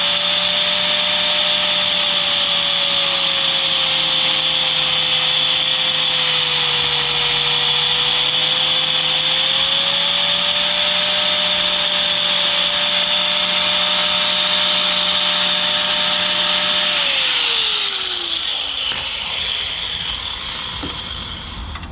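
A power tool cuts a hose from a MaXpeedingrods universal catch can kit, a loud steady motor whine with sustained tonal hum that drops in pitch near the end as it winds down, no talking.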